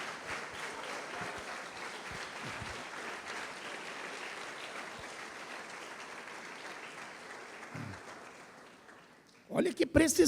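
Congregation applause during a church conference sermon, a long, soft, even patter of many hands that fades toward the end before a voice and louder sounds break in.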